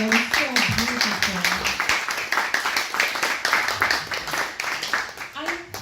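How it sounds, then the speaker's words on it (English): Clapping from the audience at a fundraiser stage show honoring a performer named Skylar Sullivan, fairly close and continuous, with a voice talking loudly over the clapping throughout. "One more round of applause, please,"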